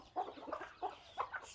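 Chickens cluck in short, quiet bursts while being called to feed, several soft clucks spaced across a brief moment with no talk over them.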